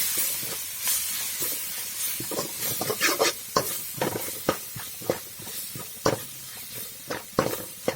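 Fish masala being stirred in a pan with turmeric, chilli powder and spices, giving irregular scraping clicks and knocks over a soft sizzling hiss, moderately close and without talk.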